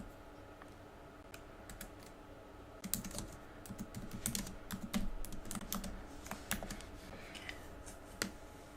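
Typing on a computer keyboard while writing a sentence, light clicks starting sparse and becoming a steady run of close keystrokes after a few seconds, with no talking.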